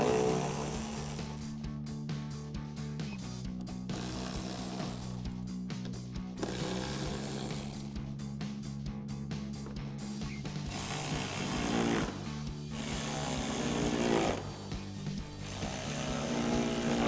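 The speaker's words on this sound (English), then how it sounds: "We're just gonna grab our ratchet with our T20 socket and switch them over." A ratchet fitted with a T20 socket, used on plastic headlight brackets of a 2020-2023 Chevrolet Silverado 2500, clicking in repeated bursts of rapid pawl ticks with pauses between, close and moderately loud over a background hum.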